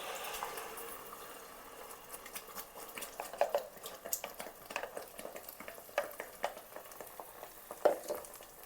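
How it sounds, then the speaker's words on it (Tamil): Ground masala frying in sunflower oil in a pan over medium flame while being stirred, giving a soft sizzle under repeated scraping and clinking stirring strokes, close and quiet. "கிரைண்ட் பண்ண மசாலா போட்டாச்சு. இப்போ மீடியம் ஃப்ளேமில் வைக்கணும். நல்லா மிக்ஸ் பண்ணணும்."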